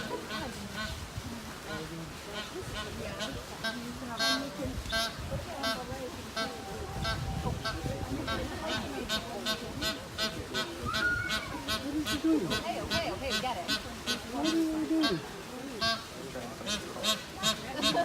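Geese at the Maharajah Jungle Trek in Disney's Animal Kingdom give repeated nasal honks in a steady chorus, fairly close, while people talk over them.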